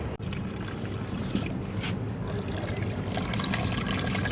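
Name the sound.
water being poured for an animal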